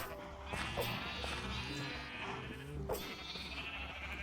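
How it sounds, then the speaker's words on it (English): Sheep bleat quietly in a Minecraft-style multiplayer survival game, several short wavering calls in a row over a soft, busy background of game sounds. "Oh, look at the little baby sheep."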